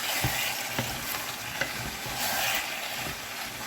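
Oxtail is stirred in a spiced pot, giving a loud, continuous close sizzle of frying with occasional scraping knocks from the stirring utensil.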